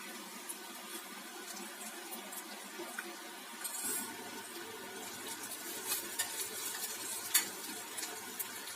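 Bitter gourd pieces fry in a pan with a soft, quiet sizzle, crackles and small pops growing busier partway through, close but low in level.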